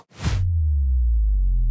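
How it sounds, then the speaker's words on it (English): A whoosh sound effect rushes in and lands on a big trailer hit, leaving a heavy, sustained low-end rumble that rings out alone. "so it's a whoosh into a big hit."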